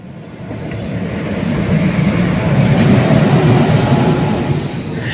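A passenger train rolls into Azimganj platform 2 on the Nabadwip Dham to Balurghat route. A loud, continuous rumble of wheels on rails swells and then eases slightly, with no voices.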